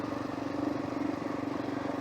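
A motorcycle engine drones steadily while riding, a close, even mid-pitched hum with a slight pulsing rhythm and no voices over it.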